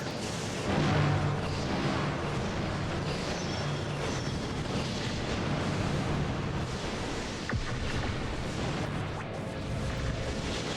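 Fire burning in the Custom Robo video game gives a steady, loud, dense roar with a low rumble underneath that runs unbroken through the whole stretch.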